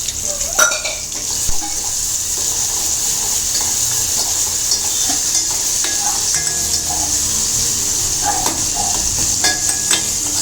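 Tomatoes with salt cook in a pan with a steady sizzle and frying hiss, punctuated by occasional scrapes and clinks of a stirring utensil, close and continuous with no talk.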